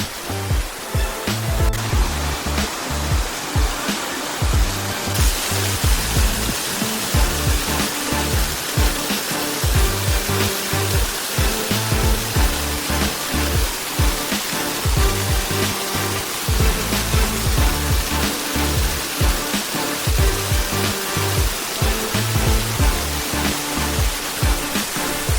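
Benki Falls pours down in a continuous loud roar of rushing, splashing water, steady and close throughout with no pauses.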